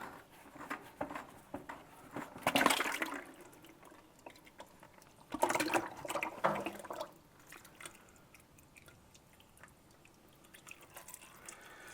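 Transmission fluid drains from a Ford 8N tractor into a container, dripping and pattering with two brief louder gushing pours, faint and close by.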